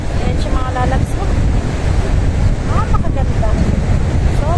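Waves breaking on a resort beach at sunset, a steady broadband wash of surf with wind buffeting the microphone, faint voices and a few bird-like chirps scattered through.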